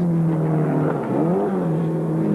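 A BRM Grand Prix racing car, driven by Walker as number 7, roars by in a race with a loud, continuous engine drone that briefly dips and swells in pitch midway. No voices are heard.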